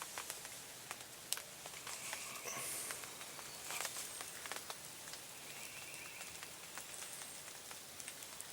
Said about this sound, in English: my garden needs the rain, but I sure hope it don't last very long